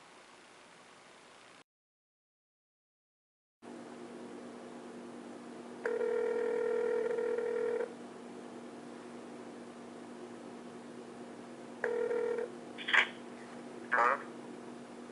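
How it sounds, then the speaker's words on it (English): A telephone rings for an incoming call: a two-second electronic ring, a pause, then a shorter ring followed by a couple of faint blips, all over a quiet hiss. "Get a phone call from a certain 80s icon."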